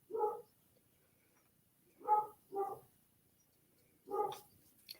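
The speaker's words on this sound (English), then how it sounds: "She's barking at something." A female dog barking somewhere down below, four faint, short woofs spread out, two of them in quick succession, in an otherwise quiet room.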